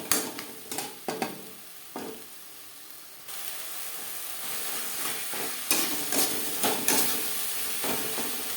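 A spice masala with turmeric and salt is stirred in a pan for a rui fish and potato curry: soft spatula knocks first, then a quiet sizzle that swells and steadies, punctuated by occasional scraping strokes.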